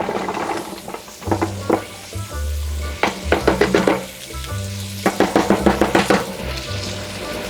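Mushrooms sizzling and crackling in hot oil in a pan, a steady loud fry with bursts of scraping and stirring, no talking.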